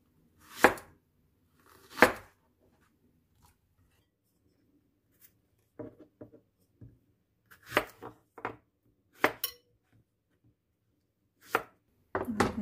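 A knife chops eggplant against a cutting board in scattered strokes, single thuds and short quick bursts with pauses between them, close and clear.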